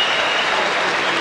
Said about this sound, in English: Matthew Hilton acknowledges the roar of the crowd